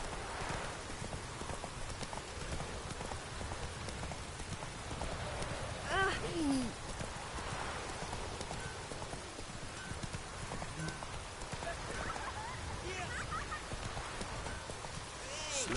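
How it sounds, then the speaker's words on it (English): Rain falls steadily over horse hooves clip-clopping in The Witcher 3 game, with a brief neigh-like sweep midway, and background voices murmur throughout. "Let it rain."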